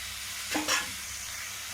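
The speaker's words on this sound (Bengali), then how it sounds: "দিয়ে নেড়ে নেড়ে ভেজে নেব" Raisins and vegetables being stirred and fried in a pan for fried rice give a quiet, steady sizzle with a couple of brief scraping stirs, with no talk.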